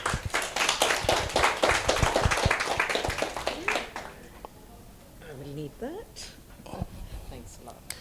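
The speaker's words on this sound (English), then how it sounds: "Please, let's give her a warm round of applause." Brief clapping from a small audience at a community gathering, several hands patting for a few seconds before fading, followed by quiet murmurs and faint voices.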